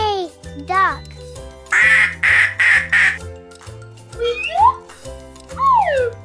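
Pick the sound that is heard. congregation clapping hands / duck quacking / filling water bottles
duck quacking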